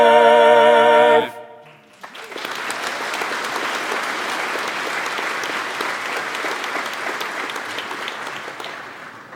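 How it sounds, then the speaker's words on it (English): A brief sustained tone gives way, after a short gap, to a large audience applauding the UC Davis Chamber Chorus at a university fall convocation, steady and full for several seconds before tapering off. "Let's give them just another round of applause."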